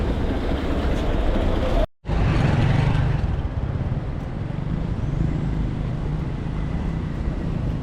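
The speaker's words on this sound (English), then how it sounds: "So this is the Kencom area where we have different vehicles picking passengers to different" Busy street traffic at Kencom in Nairobi, with vehicles picking up passengers: a steady roar of engines and road noise close by, broken by a brief dropout, with someone talking faintly underneath.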